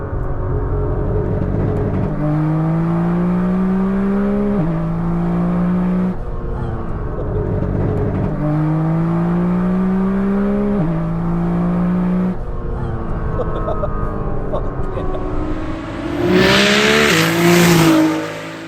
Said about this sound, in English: third gear, you can do rolling launch, check it